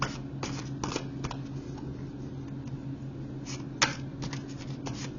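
Tarot cards are shuffled close up in a steady run of soft riffling flicks and taps, with a quiet hum underneath and no talk.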